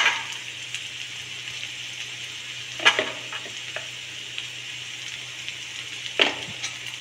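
Red and green chilies, coriander powder and salt fry in a pan with a soft, steady sizzle, broken by a couple of sharper stirring scrapes up close.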